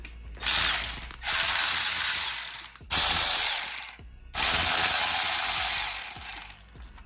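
A ratchet wrench loosening 10 mm acorn nuts on a DRZ400 motorcycle's oil filter cover clicks rapidly in three long bursts separated by short pauses, loud and close, with faint metallic clinks between.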